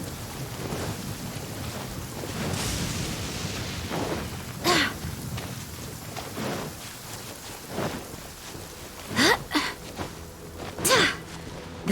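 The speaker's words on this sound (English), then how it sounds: "The rain won't slow me down." Video game weather builds up steadily: rain hisses without a break, low rumbles of thunder roll through it, and a few sharper, louder cracks break out toward the end, with no voices heard.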